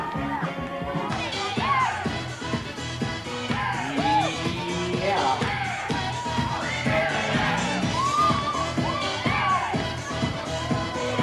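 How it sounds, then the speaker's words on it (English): Guests at a bat mitzvah party shout and cheer loudly as a lively crowd, a dense continuous roar of overlapping voices and yells across the whole stretch. "give yourself a big round of applause. Make a little noise out there on Lauren's Bat Mitzvah Party."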